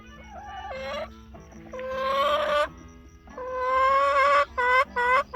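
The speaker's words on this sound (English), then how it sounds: "Come on, Chicky Chick. You're very vocal this morning" A hen clucks and squawks loudly close by in a garden chicken coop, giving several drawn-out, complaining calls broken by short clucks.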